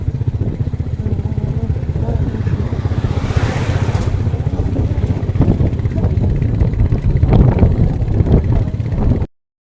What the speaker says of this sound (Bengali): এই রাস্তার মধ্যে আমি বাইক চালাচ্ছি